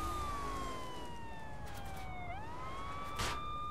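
A police siren switched on during play of the video game Saints Row IV, a steady wailing tone sweeping slowly down and back up, moderately faint and alone under a low background hum.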